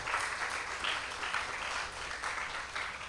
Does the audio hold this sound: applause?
yes